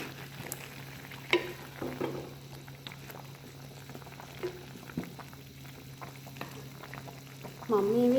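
A pot of mango curry bubbles and sizzles steadily on a stove while a spoon stirs it, giving occasional scraping taps, with a soft voice speaking at times over the simmer.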